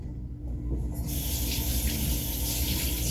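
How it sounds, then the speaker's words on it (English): Tap water runs over hands being rinsed of potato starch in a home kitchen, a faint trickle swelling after a second into a steady, close, rushing stream. "Rinsed my hands off because they are very starchy."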